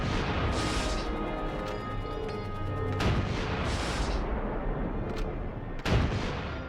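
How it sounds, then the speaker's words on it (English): Allied artillery guns opening fire in the Battle of the Rhineland, February 1945, with heavy booming blasts over a continuous rumbling barrage, several distinct loud reports spaced a few seconds apart. "February 8th, 1945, Allied guns open fire."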